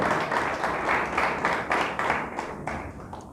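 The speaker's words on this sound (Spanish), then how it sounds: "Le damos un fuerte aplauso a Dios." A congregation at a church service claps together in a steady rhythm, the applause fading toward the end.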